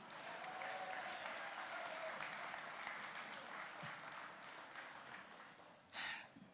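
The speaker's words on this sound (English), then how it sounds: "if you take a moment, a round of applause" Audience at an award event applauding steadily, a sustained even round of clapping from a crowd that slowly thins, with a brief louder burst near the end.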